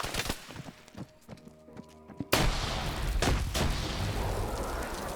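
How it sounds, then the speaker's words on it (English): A frag grenade blast in a multiplayer SCP shooter game: a sudden, loud explosion bursts in after a few scattered shots, followed by a long rumbling, crackling tail. "Grenades, guys, grenades"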